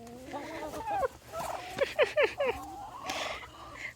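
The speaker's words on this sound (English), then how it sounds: "They're very nice turkeys." Farm turkeys gobble in a run of quick, warbling calls, several bursts close together at moderate distance, with faint background noise.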